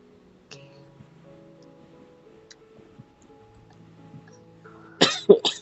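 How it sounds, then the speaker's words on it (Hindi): A man coughs during a phone call, a few sharp, close coughs bunched at the end after a stretch of quiet room tone with faint ticking. "खाँसी क्यों आ रही?"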